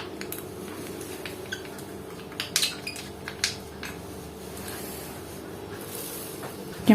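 A spoon scraping and clinking in a bowl while sugar and vanilla are stirred into flour, with soft intermittent clinks and light scraping in a quiet kitchen.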